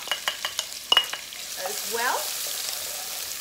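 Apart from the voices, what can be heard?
spices and onions sizzling in hot oil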